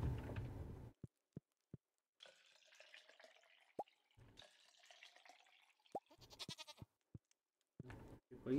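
Goats bleat in the Stardew Valley farming game, with two short rising bleats spaced a couple of seconds apart amid soft clicks, drips and light in-game background sounds.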